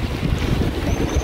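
Wind gusting at a church viewpoint in Atafona, São João da Barra, Rio de Janeiro, a steady, loud rumbling buffet against the microphone with no voices.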